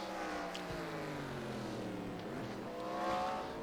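Race cars at the 24 Hours of Sebring roar into a turn. Several engine notes overlap and bend in pitch as the cars brake and shift. The sound is steady, fairly distant and fills the whole stretch.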